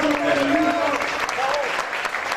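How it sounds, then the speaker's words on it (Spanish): Audience applause for a presenter at a Paraguay bicentennial event in Spain, steady dense clapping throughout with a voice speaking faintly over it. "yo quiero pedir un gran aplauso"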